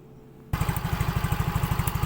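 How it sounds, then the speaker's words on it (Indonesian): A Yamaha Mio J motorcycle with a battery charging fault is started after a brief quiet moment, then settles into a steady, close idle with an even, rapid pulsing beat. "Coba kita hidupkan motornya."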